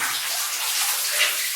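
Water drips and splashes steadily inside an abandoned mine, a close, continuous hiss of falling water with no pauses.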